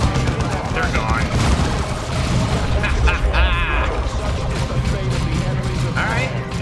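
Sniper rifle fire in the Warhammer 40K Dawn of War 2 strategy game, a shot or two buried in a dense, continuous battle din of explosions and mechanical noise, with speech over it.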